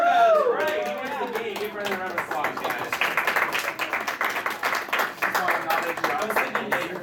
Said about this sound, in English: Give Brendan a round of applause, guys.